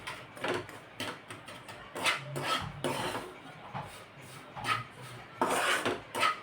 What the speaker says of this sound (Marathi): आता अजून हे दोन तीन मिनटं भाजून घेईल मी